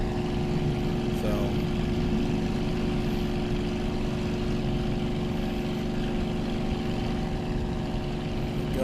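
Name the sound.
aircraft engine throttling in video game World Flight VR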